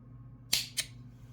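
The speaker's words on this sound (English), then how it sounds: "I take my crafting scissors and cut it off." Two quick, crisp snips of crafting scissors cutting elastic cord close by, a fraction of a second apart, against a quiet background hum.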